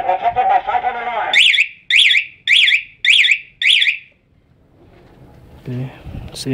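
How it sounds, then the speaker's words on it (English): A Cyclone anti-theft alarm on a 2012 Suzuki Raider R150 motorcycle chirps five loud, sharp warbling bursts in a row, close by. Before them comes a brief rising electronic tone, and after them a faint murmur with a short voice. "Don't touch me, but I'm protected by cyclone alarm."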